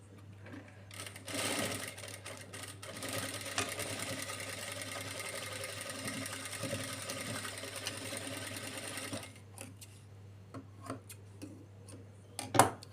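A sewing machine stitching a lehenga bodice runs in one steady whirring burst for about eight seconds, then stops and is followed by light handling clicks and taps, close and clear.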